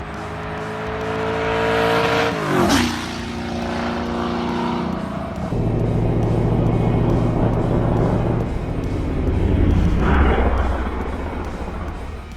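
A car with a blown small-block Ford or turbo Coyote engine roars loudly past in a close flyby, its pitch sweeping down sharply as it passes, then a steady engine drone continues with a second surge near the end.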